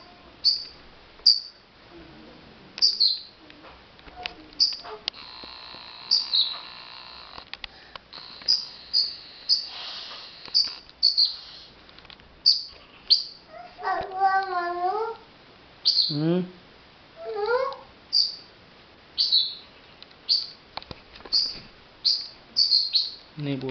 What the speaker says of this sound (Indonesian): Ini burungnya nggak bisa keluar guys ya.